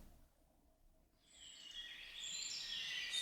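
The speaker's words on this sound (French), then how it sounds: "les chants des oiseaux" Birds singing in a forest, faint bright chirping that rises out of quiet woodland air partway through and grows into overlapping high calls, somewhat distant.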